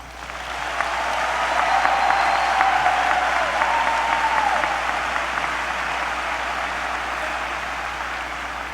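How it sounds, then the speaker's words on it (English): Graduation ceremony crowd claps for the graduating class at a spring commencement, a broad, even roar of applause swelling in after a quiet start and holding steady, with a faint whistle briefly rising above it. "How about one more round of applause for this class?"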